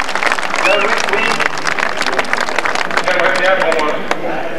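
Crowd applauding at an outdoor cycling ceremony in Villeneuve-sur-Lot, steady dense clapping throughout with voices mixed in.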